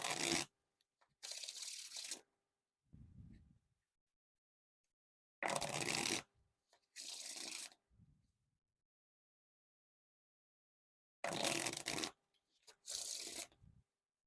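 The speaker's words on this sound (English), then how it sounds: "Now time for the riffle shuffle or bridge shuffle." Organic Playing Cards' Dunkers deck is riffle shuffled three times, each a crisp burst of rapid flutter followed by a softer bridging riffle, with pauses in between.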